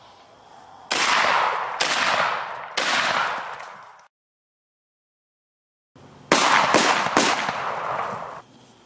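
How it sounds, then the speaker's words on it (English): Shotgun blasts fired at a pumpkin, three loud booming shots about a second apart, then a pause and a second rapid group of close, echoing blasts. "Time to finish him off with a good old shotgun."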